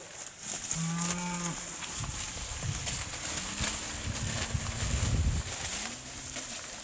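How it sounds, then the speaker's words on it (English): Angus and semi-Angus steers and heifers at a cattle sale moo several times, close and fairly loud, with drawn-out calls spaced across the clip over a steady background hiss. "Sired by Angus bulls and semi-Angus out of Angus and semi-Angus cows."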